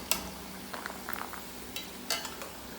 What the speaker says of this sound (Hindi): और बादाम भी हमारे बढ़िया तरीके से फ्राई हो गए हैं।